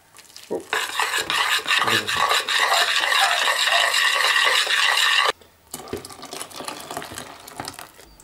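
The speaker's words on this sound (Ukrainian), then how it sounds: "Ось так швидко замішую яйця з борошном." Eggs and flour whisked quickly in a bowl for custard cream, a close, loud, steady rasping whir of the whisk for about five seconds, then a brief pause before lighter whisking resumes.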